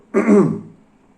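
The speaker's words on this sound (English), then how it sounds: "I need to clear my throat, but I continue." One short, close throat clearing, a gruff rasp lasting under half a second, then silence.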